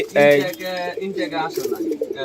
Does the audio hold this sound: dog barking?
no